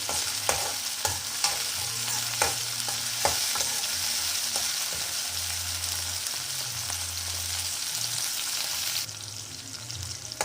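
Tomatoes sautéing in a pan over a high flame, a steady loud sizzle with periodic scraping stirs and a few sharp spatula knocks early on, heard on its own without talk.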